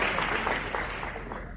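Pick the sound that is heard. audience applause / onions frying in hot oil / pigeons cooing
audience applause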